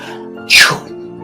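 A single sharp sneeze, imitated by a voice, bursts out loudly and briefly between quieter moments.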